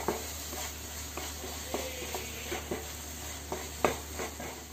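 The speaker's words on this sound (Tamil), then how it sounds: "கருவேப்பிலை ஆட் பண்ணிவிட்டு பச்சை மிளகாய் அதில் ஆட் பண்ணிக்கோங்க ஆட் பண்ணிட்டு நல்லா மிக்ஸ் பண்ணி விட்டுக்கோங்க" Curry leaves and green chilies fry in hot oil for egg curry, with a steady soft sizzle under scattered scraping clinks of a spoon stirring in the pan.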